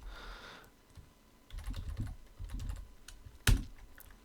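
Bursts of quick keystrokes clatter on a computer keyboard, with pauses between runs and a sharper key press near the end.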